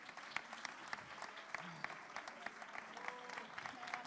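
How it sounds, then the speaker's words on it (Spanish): An audience at the 2023 children's carnival in Almería claps in a lively, continuous round with crisp individual claps clearly audible, sustained evenly from start to finish at moderate distance. "Fuerte aplauso."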